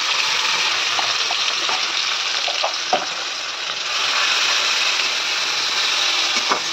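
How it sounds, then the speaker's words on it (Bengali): Chopped onion and green chili frying in oil for a Bengali tempering, a loud continuous sizzle close by with a few scrapes and taps of stirring, no voices. "ফোড়নের গন্ধ আসলেই দিয়ে দেবো এই চপ করা পেঁয়াজ আর কাঁচা লঙ্কা।"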